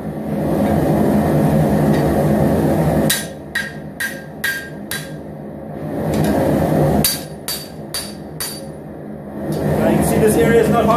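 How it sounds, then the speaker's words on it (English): A hammer strikes a hot forged steel knife blade to straighten out ripples and warps, sounding as two quick bursts of about five sharp metallic clinks each, loud and close over a steady roaring forge background. "Now I'm going to do it with a hammer, so you can see how I straighten out all those ripples and warps in the blade."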